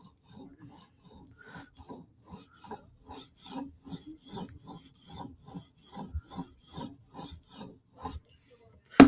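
A Mini Arius knife with a mirrored finish is drawn across a whetstone in a steady series of short, soft scraping strokes, close and quiet, ending with a louder knock.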